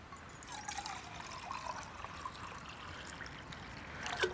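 Water pouring into a cup, a soft continuous trickle with gentle splashing, faint and close, rising slightly toward the end as it fills.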